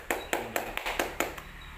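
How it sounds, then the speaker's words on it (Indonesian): Scattered hand claps, about six distinct sharp hits at an uneven pace, sound at moderate distance in a quiet room during an anti-corruption outreach session. "Baik, tepuk tangan untuk semuanya."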